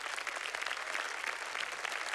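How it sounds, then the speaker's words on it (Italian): A crowd applauds, a dense, even wash of many hands clapping at once, close and steady throughout. "Un grande applauso"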